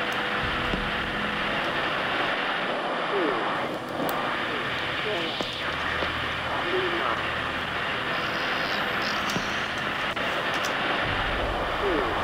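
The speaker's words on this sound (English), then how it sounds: "You guys get to listen to the static of this room." Steady hiss and low hum of room static inside a video game, with a broadband rumble continuing alone and no one talking.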